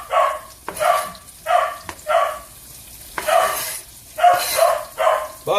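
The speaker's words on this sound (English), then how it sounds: "Otherwise he keeps barking." Dog named Bupkis barking in a kitchen, a series of about eight sharp, loud, close barks in uneven bursts with short gaps between them.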